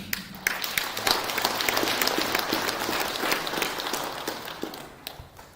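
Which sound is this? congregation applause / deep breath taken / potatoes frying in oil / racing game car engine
congregation applause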